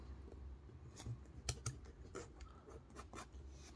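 A Jinhao 992 fountain pen with a red hooded nib, not writing properly, scratches faintly across paper in a few short, dry strokes, with soft ticks and scrapes up close in a quiet room.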